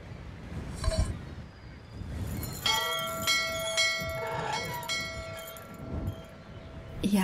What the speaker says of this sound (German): Von hier aus könnte er den Klang der Glocke hören